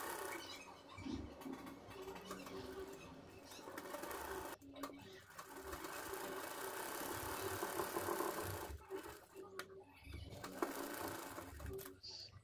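Sewing machine stitching the back neck of a blouse, a steady mechanical whir running continuously through most of the stretch with brief pauses.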